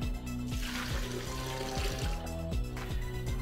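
Two cups of water splash into a blender for a green smoothie, a soft running pour heard beneath steady background music.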